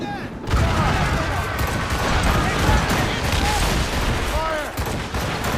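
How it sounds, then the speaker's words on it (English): In Assassin's Creed Rogue, a ship's swivel gun fires at an enemy vessel in repeated blasts amid dense naval battle noise, with crew shouts heard throughout. "I like how I can just pepper him with the swivel now."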